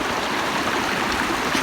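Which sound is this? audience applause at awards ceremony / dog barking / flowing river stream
flowing river stream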